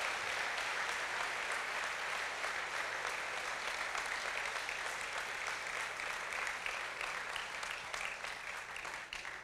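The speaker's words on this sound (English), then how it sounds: "Let's give her a big round of applause." A large audience at the Choctaw Nation State of the Nation gathering applauds a Choctaw woman over 95, a long, even roll of many hands clapping that stays fairly faint and distant, fading slightly near the end.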